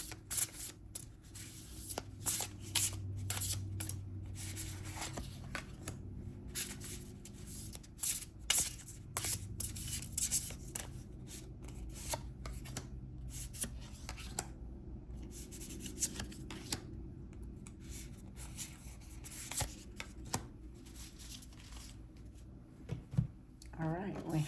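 A deck of tarot cards is shuffled by hand, with repeated riffling and flicking bursts close by while a person keeps talking.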